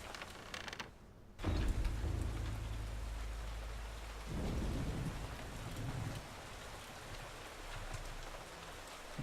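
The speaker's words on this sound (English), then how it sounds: "Just the thunder and lightning outside," Rain falls steadily and thunder rumbles outside a stained-glass church in the Eternal Darkness video game, a deep roll swelling loud near the start, then lighter rumbles returning over constant rain hiss, with no voices.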